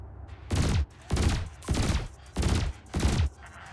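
Weapons fire at floating canisters in the space combat game Elite Dangerous, five loud sustained bursts of roughly a third of a second each, evenly spaced with short gaps, close and alone.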